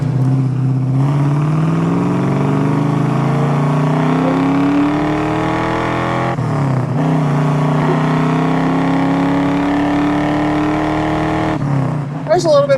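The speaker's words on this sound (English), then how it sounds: "Downshift a second here and we'll roll into the throttle some." A restored 1969 Chevrolet Chevelle SS with a 454 V8 and five-speed manual pulls hard after a downshift, engine pitch climbing steadily. There is a brief gear-change dip near the middle, then the rising drone resumes, loud and close inside the car.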